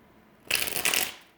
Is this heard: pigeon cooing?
no